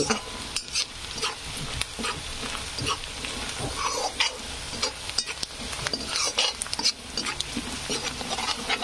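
Onions and spices frying in a pan for kanda poha, a loud close sizzle broken by frequent clattering stirs and scrapes of a spoon, no talking.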